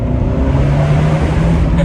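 A 2017 Fiat 124 Spider Abarth with a six-speed manual gearbox runs its engine in a loud, steady, close drone that holds throughout without clear peaks.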